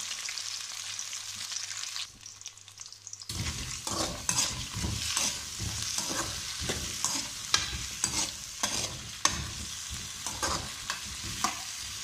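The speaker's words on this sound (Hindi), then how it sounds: "अब इसमें हमने ये आलू डालने हैं। इसको हमने अच्छी तरह मिक्स करना है।" Potatoes are stirred in a frying pan, loud continuous sizzling broken by repeated scraping strokes of a spoon, after a brief quiet gap near the start.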